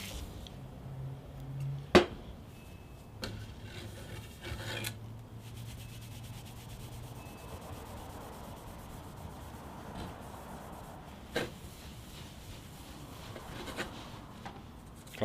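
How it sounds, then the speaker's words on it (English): A cloth rubs WD-40 over sticker residue on a black machete sheath, giving a soft, close, continuous wiping scrub with a few sharp knocks and handling bumps along the way. "Best way to get that gunk off is with a little WD-40."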